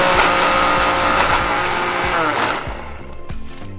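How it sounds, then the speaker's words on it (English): Blender running steadily as it purees roasted eggplant into a dip, a loud continuous motor whir that eases slightly toward the end with a few knocking pulses. "Let's just blend it up and see what happens."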